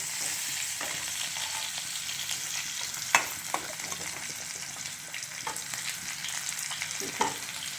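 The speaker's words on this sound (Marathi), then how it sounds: "थोडीशी कोथिंबीर फोडणीमध्ये टाकते आणि कांद्यासोबत तिला छान स्वाद येतो म्हणून तिला कांद्यासोबतच आपल्याला परतून घ्यायचं आहे" Chopped coriander and onion sautéing in hot tempering oil for vatanyachi amti, a soft steady sizzle with a few scattered spatula scrapes and taps, no talking.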